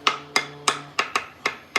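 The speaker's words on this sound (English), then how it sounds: "If I had a bad rim, it would sound like this." A bad banjo rim is tapped seven times in a steady rhythm, each hit a short, dull knock that dies away at once with no ringing tone, close and alone.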